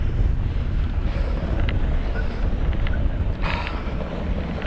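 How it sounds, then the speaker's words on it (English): Strong wind buffets the microphone outdoors on a snowy lake route, a loud, continuous low rumble with gusting swells and no voices. "It's breezy out here."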